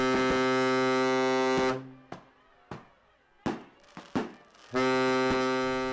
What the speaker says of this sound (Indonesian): seluruh ABK meluncurkan kembang api dari atas dek